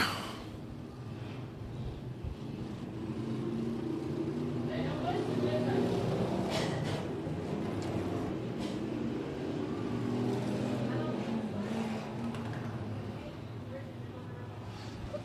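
Modified race cars roaring around an oval speedway track, a steady blend of engine drone with a few louder surges as cars pass, heard under constant announcer talk and crowd chatter.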